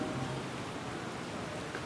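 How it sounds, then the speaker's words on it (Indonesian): Steady rain falls outside a religious study gathering in Indonesia, a dense, even hiss of drops on surfaces that continues without pause and without any voices. "dua maghrib kemarin dan hari ini hujan turun"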